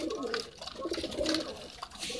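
A racing pigeon cooing in soft, low, repeated throaty pulses, fairly faint and close, with a little background noise.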